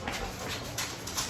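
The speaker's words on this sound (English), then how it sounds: "Dogs." Dogs whimpering and panting nearby in a home kitchen, a few soft whines rising over steady background noise.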